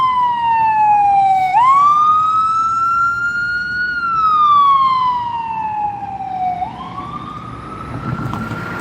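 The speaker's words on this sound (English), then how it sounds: "Oh, it's an ambulance." Loud ambulance siren on a New Orleans street, its wailing tone sweeping slowly up and down and dropping in pitch as it passes close by, with road rumble underneath.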